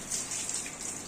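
Water poured over a golden retriever in a home shower makes a steady, close splashing rush that runs without a break for about a second, with no voices.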